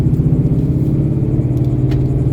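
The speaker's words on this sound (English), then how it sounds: "I'll have the window down just so you can hear the exhaust." A 2015-2017 Ford Mustang tuned by Lund Racing, its exhaust heard through an open window while driving: a loud, steady, deep rumbling drone with no talking.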